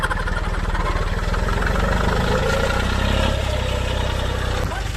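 A sugarcane tractor with a broken front part rumbles at idle close by, a steady loud throbbing low engine note with faint voices in the background.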